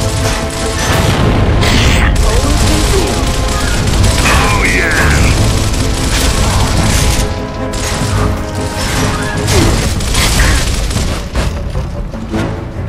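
Heavy booms and crashing blasts in the Gears of War video game, a grenade explosion among continuous loud combat noise with scattered gunfire and clanking mechanisms, dense and unbroken throughout.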